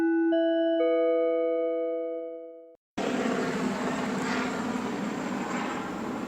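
A helicopter flies overhead in Ontario; after a few fading chime tones and a brief silence, a loud, steady broadband roar of rotor and engine noise fills the rest of the clip.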